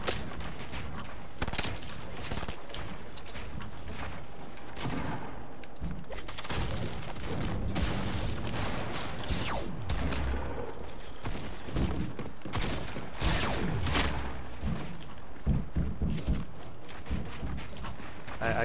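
Rapid video game gunfire crackles in dense, overlapping bursts with booms and mechanical clatter throughout, loud and busy with no pauses.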